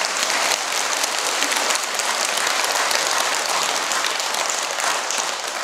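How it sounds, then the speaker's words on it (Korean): Large congregation of temple devotees clapping for the Buddha during a dharma service at Jogyesa, a steady, loud, dense wash of applause that continues throughout. "지금 박수 한번 쳐드려요 부처님께"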